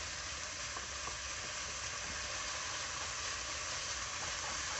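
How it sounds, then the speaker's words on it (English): Onions frying in oil in a pan while a corn meal sauce (amboge) is being cooked, giving a steady, even sizzle and crackle at a close distance that continues alone with no talk. "So that way the onions can get fried."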